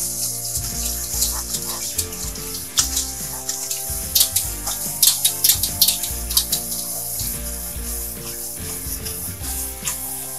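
Cooked noodles are rinsed under cold running tap water in a sink, a steady close rush of water broken by splashing and handling bursts as the noodles are swished about.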